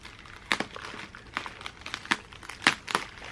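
Crinkling, crackling plastic and paper as a stationery package sealed with a sticker is carefully opened, a few sharper crunches standing out among softer rustles, close and fairly quiet.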